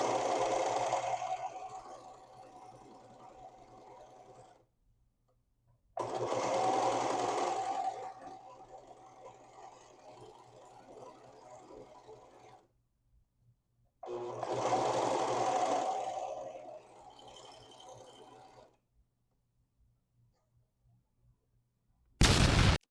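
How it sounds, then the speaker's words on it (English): A sewing machine runs a zigzag stitch over fabric edges while making pants, giving three long close whirring runs separated by short silences, with a brief burst at the very end. "use the zigzag stitch on your sewing machine over the edges"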